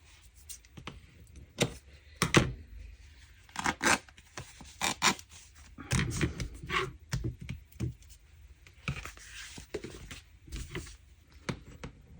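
Scissors cutting paper for a junk journal: close, quiet snips and crisp rustles in irregular bursts separated by short pauses, with no talking.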